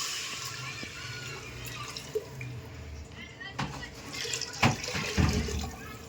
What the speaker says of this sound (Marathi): यामध्ये 2 तांबे पाणी ओतूया